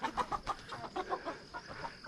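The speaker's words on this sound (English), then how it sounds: "I think I've disturbed the chickens." Several chickens in Nepal cluck in quick, uneven bursts, fairly close, with a faint steady hum in the background.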